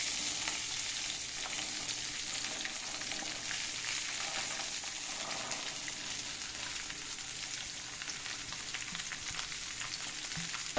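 Cut beans, onion and chili fry in hot oil with popped mustard seeds, a dense, continuous crackling sizzle that holds steady and fairly close for the whole stretch without any talk.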